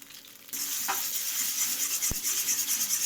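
An egg cracked into a kadai for chicken fried rice hits the hot oil, a sudden loud sizzle that starts after a short quiet moment and stays steady, with a single sharp utensil tap partway through.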